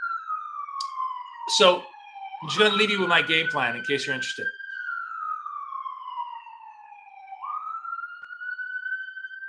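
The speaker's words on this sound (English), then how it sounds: "Yeah, it's definitely an ambulance." Ambulance siren in New York City wailing in long slow rising and falling sweeps, loud and continuous, with someone talking over part of it.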